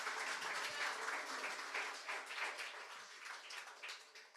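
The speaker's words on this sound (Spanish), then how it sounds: "Dale un aplauso a Jesús." A church congregation claps together in a soft, continuous patter of applause that stays faint and distant and tapers slightly toward the end.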